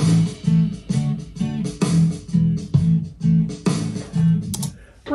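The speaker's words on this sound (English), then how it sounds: "So right now we just have kind of that initial drum beat," Composed background music for an app main menu, opening with a bouncy drum beat under a repeating chord progression, in steady even pulses, loud and alone with no talking.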